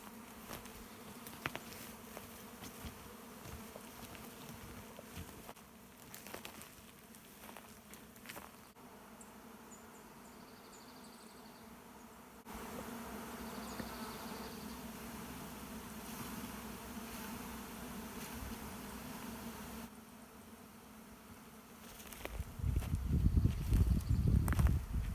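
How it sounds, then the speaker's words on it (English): A large mass of bees buzzes faintly around a hive outdoors, a continuous soft hum with a louder rustling stretch near the end. "so there's a huge amount of bees in that hive"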